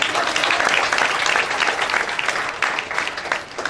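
Energetic audience applause for gurus at a direct-selling business meeting, continuous dense clapping at a steady level with no talking over it.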